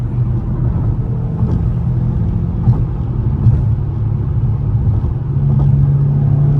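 A Dodge Challenger Scat Pack 392 driving through Philadelphia, its engine a loud, steady low rumble throughout with a slight swell toward the end.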